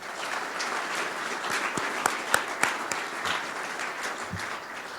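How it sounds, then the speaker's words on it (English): An audience at an annual membership meeting gives a round of applause, a continuous moderate clapping from a mid-sized room lasting several seconds with a few sharper individual claps. "Let's give them a round of applause."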